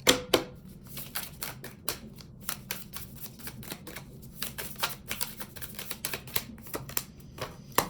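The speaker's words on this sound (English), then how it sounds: "Let's shuffle that again." Tarot cards are shuffled by hand, giving rapid, crisp flicks and taps in quick uneven bursts that sound close and fairly quiet.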